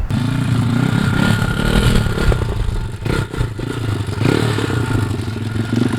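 A pit bike converted into a tricycle rides nearby with its engine revving hard and continuously. Clattering and scraping run under the mid-pitched motor drone.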